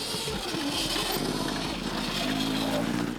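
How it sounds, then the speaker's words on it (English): Electric drivetrain hum of a Cake Kalk high-performance electric dirt bike, a steady, continuous buzz at moderate loudness with a low whine, much quieter than a gas dirt bike. "buzzing sound that's just from the drivetrain and stuff"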